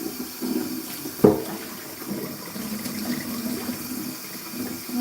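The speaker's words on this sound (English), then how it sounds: "just put some water in this" Water runs into a container for washing vegetables in a small apartment kitchen, a low steady flow with one brief clunk near the start, moderately close and without speech.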